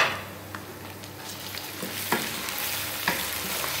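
Ginger garlic paste frying and being stirred in a pan for dal makhani, a steady close sizzle with occasional scrape-like stirring accents, no voices.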